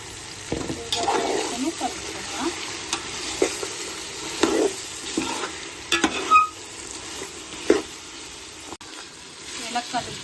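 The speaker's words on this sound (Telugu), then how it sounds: "ఉప్పు, కారం, మసాలా ఇవన్నీ కలిపి పెట్టుకున్న చికెన్ వేసుకుందాం. వేసుకుని కలుపుకుందాం" Chicken marinated with salt, chili powder and masala is added to a pan for gongura chicken biryani and stirred. Scrapes and clatters come at irregular intervals over a low, continuous sizzle, with a faint voice at times.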